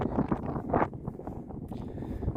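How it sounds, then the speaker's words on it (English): Gusty wind buffets the microphone outdoors at night beside a tent on a Dartmoor tor, a loud rumbling roar that swells and eases over a couple of seconds with no one speaking. "Apologies, I know it's a bit blowy"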